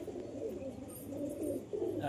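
A red male pigeon gives repeated low, rolling coos in steady soft pulses, close and fairly quiet, with no clear voices over it.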